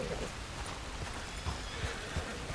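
Wild horses near a spring in the Red Dead Redemption 2 video game, with hoof clip-clops and a faint whinny under steady ambient noise and speech, the hoofbeats sounding as intermittent soft thuds.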